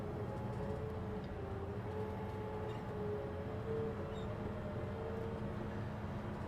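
A John Deere 310SL backhoe loader drives along, its diesel engine producing a steady, continuous low rumble with a faint droning tone, heard from the operator's position with no talking.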